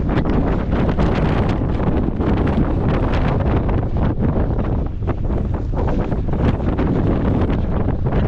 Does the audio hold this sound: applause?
no